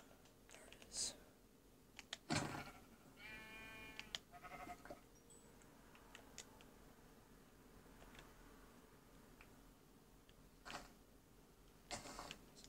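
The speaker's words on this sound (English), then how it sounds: "One more sheep. You can hear it, it's just." Sheep in a Minecraft game bleat in a few short, faint calls among quiet game sounds and soft clicks, with a person whispering now and then.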